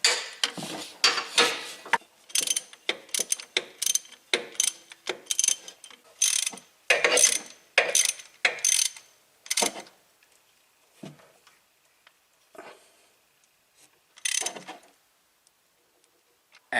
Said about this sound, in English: now we're going to go and torque this down, and we will be done